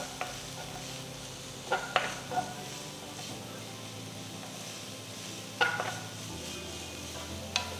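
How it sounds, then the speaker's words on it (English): Finely chopped onions and green chilies sautéing in oil in a pan, a soft continuous sizzle broken by a few sharp scrapes and clinks of a spoon stirring, fairly quiet and with no voices. "Saute the onions till they turn to a nice golden color."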